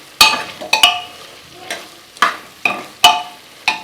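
Beef fry being stirred in a pan with coconut oil, crisp sizzling bursts with each scrape of the spoon, roughly eight strokes in an uneven rhythm over a soft background sizzle; no talking.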